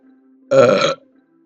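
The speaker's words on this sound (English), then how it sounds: "that burp killed all the tension" A single loud burp, short and close, lasting about half a second and rising abruptly from near silence before cutting off cleanly.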